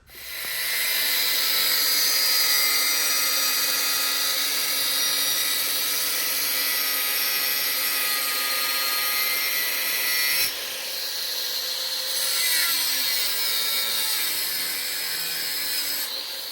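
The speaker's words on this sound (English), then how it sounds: "I'm gonna spend the next hour cutting this with a cutoff wheel." Cutoff wheel grinding through metal for a front shock mount on a bagged S10 truck, a loud continuous high-pitched whine that holds steady for the full length, with a brief dip and pitch shift partway as the wheel bites differently.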